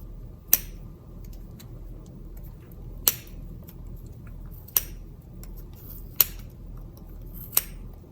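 Small scissors snip through yarn in five sharp, isolated clicks spaced a second or two apart over a quiet room background.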